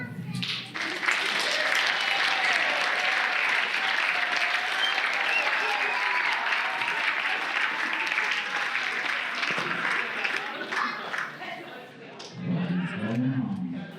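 Wedding reception guests applaud the best man's toast: loud, sustained clapping from a crowd that fills most of the stretch, then tapers off, with a voice speaking briefly near the end.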